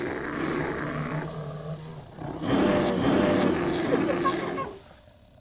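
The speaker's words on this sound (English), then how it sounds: "Bear." A bear roars: a lower rumbling growl gives way to a loud, rough, sustained roar lasting about two seconds, which then fades out.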